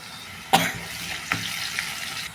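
Onions frying with freshly crushed garlic for a curry, a low steady sizzle punctuated by two distinct clanks of a spoon against the pan, near and moderately loud, with no talk.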